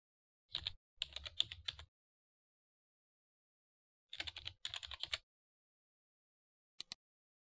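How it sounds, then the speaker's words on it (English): Computer keyboard typing in two short bursts of rapid clicks separated by a pause, then a couple of isolated final key taps, close and clear in a quiet room. "Type in your column headings and up to 16 labels."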